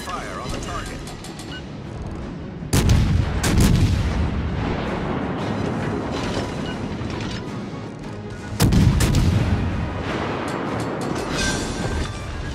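Naval artillery from warships in World of Warships: Legends, heavy booming salvos that crash in at about 3 and 9 seconds over a continuous rumbling battle din, loud and close, with a voice speaking during the action.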